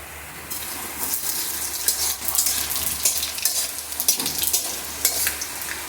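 Panch phoron whole spices frying in hot oil for a tempering, with clove and black pepper in the pan, crackling and sizzling steadily with scattered pops and light stirring scrapes, fairly close and without voices.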